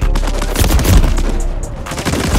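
Rapid automatic gunfire rattles in a Call of Duty Modern Warfare III multiplayer match, a dense loud burst of overlapping shots lasting a couple of seconds.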